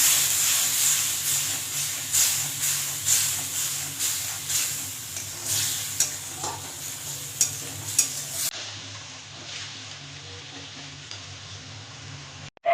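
Rui fish curry in a pan as a little water goes in, a bright steady sizzle and hiss with rhythmic stirring scrapes, then the sizzle settles quieter before a sudden stop.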